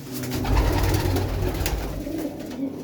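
Soft, low pigeon cooing repeats steadily over a few seconds, close by, with faint background noise and no talking.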